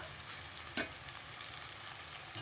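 Onion, tomato and carrot are sautéed in a pan for a potato poori masala, giving a low, even sizzle with occasional light stirring scrapes and clicks.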